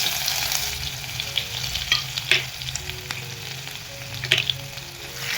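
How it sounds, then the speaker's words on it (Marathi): Garlic sizzles and fries in hot oil with cumin and asafoetida tempering for patvadi rassa, a steady close crackle with sharp pops and stirring clicks throughout, no voices. "आणि मी लसूण टाकणार आहे बघा"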